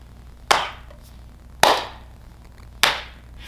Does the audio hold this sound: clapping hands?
yes